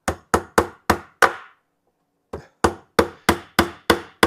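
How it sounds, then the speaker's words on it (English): A hammer drives nails into wood, five sharp, ringing blows in a steady rhythm, a short pause, then six more strikes, close and loud with no talking. "You're saying, Tim, are you nailing in"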